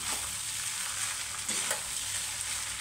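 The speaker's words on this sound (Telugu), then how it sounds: "ఇట్లా బాగా అంతా కలిసేలాగైతే కలుపుకోవాలండి." Lemon rice is stirred and tossed in a pan: a steady, close scraping hiss with soft spoon strokes and a few louder scrapes, with no talking.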